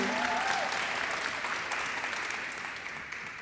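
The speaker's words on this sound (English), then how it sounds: "Let's give her an applause." A school spring athletic awards audience applauds a two-time state champion, broad sustained clapping from a crowd in a hall, steady and slowly fading, with a brief voice at the start.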